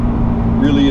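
A 1981 Porsche 928 with a five-speed manual revs steadily and loudly while driving, its engine tone holding constant and rising slightly in pitch toward the end.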